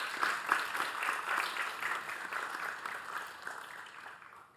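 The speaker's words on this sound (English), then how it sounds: "let's go ahead and give them a round of applause" A crowd applauds steadily with dense, overlapping clapping at moderate distance, fading slightly toward the end.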